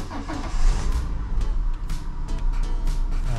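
Peugeot car engine cranking and catching right after an alternator replacement, the starter rumble giving way to an uneven idle close by, with no voices.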